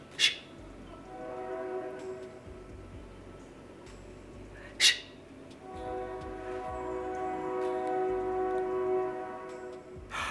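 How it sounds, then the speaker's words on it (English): A train rumbles past with a steady drone of wheels and grinding tones, broken by two short sharp horn blasts. "Ooh, the train."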